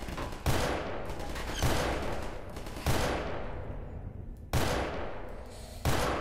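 Gunfire in Garry's Mod: five sharp, loud shots spaced roughly a second apart, each with a punchy attack and a decaying tail that lingers into the next, with no talking.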